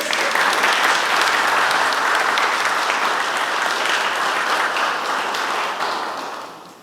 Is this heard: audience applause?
yes